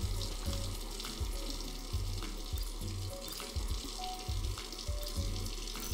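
Tap water running steadily in a beer brewing simulator game, a continuous hiss and splash with a repeating low rhythmic pattern underneath, moderately loud and without speech.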